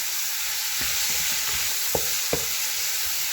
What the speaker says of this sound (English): And then I'm gonna saute everything.